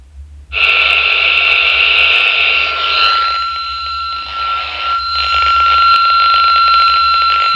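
A Baofeng or SCOM UV5R Mini handheld radio fitted with an RH77B antenna receives a loud, steady electronic tone that shifts pitch partway through, sounding close and piercing with a faint low hum underneath and no talking.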